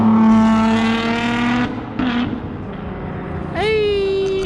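A Volkswagen City Golf's engine roars past while racing, its pitch sliding down as it goes, then another revs up sharply nearby with a rising whine.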